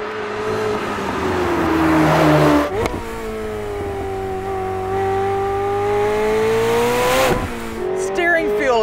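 A 2024 McLaren 750S Spider in track mode accelerates hard, its engine note climbing steadily, then cutting sharply at two quick gear changes before rising again, loud and close from inside the car, with talk over it.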